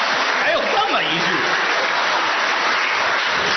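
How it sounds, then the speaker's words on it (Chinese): Audience applause fills a live crosstalk comedy show, a dense, steady roar of many hands clapping at even loudness throughout. "可以鼓掌了啊"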